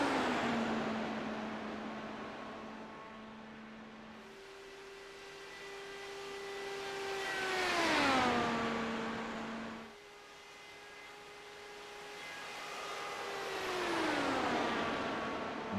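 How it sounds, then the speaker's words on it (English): Indy 500 race cars in a video game qualifying run, a high engine whine rising through the gears and sweeping down as cars pass close by, twice in succession, with no talk over it. "The sound these cars make is just fantastic."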